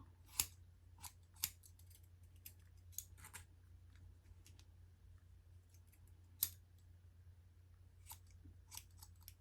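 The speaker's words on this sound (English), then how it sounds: "I'm gonna try to cut the bottom and make it even" Scissors trim the bottom edge of a short pixie haircut in sparse, faint snips spaced a second or two apart, heard close over a quiet background hum.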